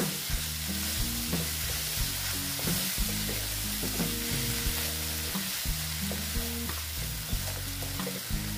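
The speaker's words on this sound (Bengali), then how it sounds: "পেঁয়াজ কলির সঙ্গে ভালো মতন আমি মশলাটা কষিয়ে নেব" Spice paste frying with spring onions for a spicy katla fish curry, a steady close sizzle broken by repeated scraping and stirring knocks of a spoon against the pan, with no talking.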